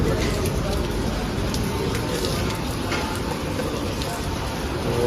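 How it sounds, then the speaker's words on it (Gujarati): Steady rain pattering on a surface nearby, a dense continuous hiss with scattered heavier drops and no break. "વરસાદ ચાલુ થઈ ગયો છે અમદાવાદની પહેલા"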